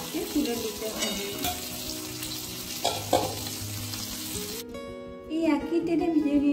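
Gurjali fish fries in hot oil with a steady loud sizzle; partway through it briefly drops out, then the frying resumes with bubbling crackle.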